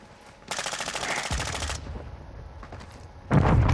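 Rapid machine-gun bursts in a first-person shooter video game, one long close burst early on and another loud burst starting near the end, with quieter shots in between.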